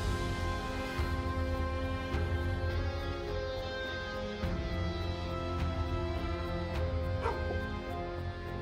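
A dog in the video game Edge of Collapse whimpers and yips in short bursts under a steady droning game soundtrack, moderately loud and continuous.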